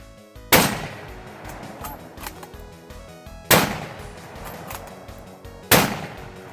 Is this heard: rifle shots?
yes